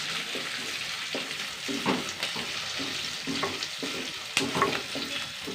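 Curry leaves fry in hot oil in a pan, giving a continuous close sizzle with repeated stirring scrapes and occasional sharp pops.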